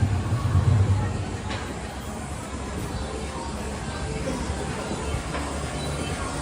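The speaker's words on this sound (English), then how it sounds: "You can hear the train that's directly above us." A train rumbles along tracks directly overhead in Tokyo at night, a steady broad roar that is loudest at the start and then holds level with faint hissing, no voices over it.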